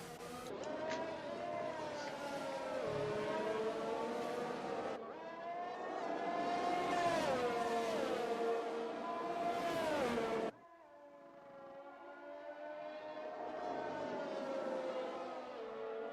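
Formula 1 cars racing at the Belgian circuit in the F1 2021 video game, with high, loud engine whines rising and falling through gear shifts, a sharp cut near the end to another car's steady drone.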